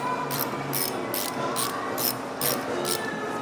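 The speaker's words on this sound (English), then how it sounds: "we're going to go with screwing this down a little bit at a time on each side" Ratcheting while screwing down the oil filter cover bolts on a Kawasaki KLX140, six or seven short bursts of clicking at an even pace, close and moderately loud, with no talk.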